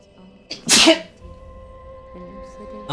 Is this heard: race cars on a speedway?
no